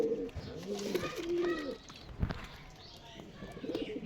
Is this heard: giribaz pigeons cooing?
yes